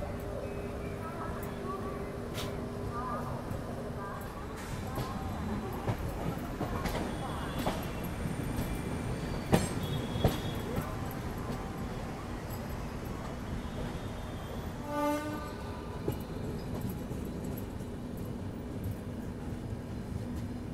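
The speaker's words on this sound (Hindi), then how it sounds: "ये देख लीजिए आप लोग, सिकंदराबाद दानापुर एक्सप्रेस का पावर WAP7" Secunderabad Danapur Express hauled by a WAP7 electric locomotive passes nearby, a steady rolling rumble of wagons with clicking wheel joints and occasional squeal, loud and continuous throughout.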